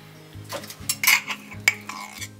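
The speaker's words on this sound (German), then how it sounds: "Und jetzt nehmen wir unser Ghee und geben das in die Pfanne." Ghee goes into a very hot frying pan, with metallic clinks and scraping of a utensil against the pan over a low background hum, close and without talk.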